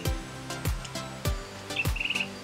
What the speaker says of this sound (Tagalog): Pero may ibon.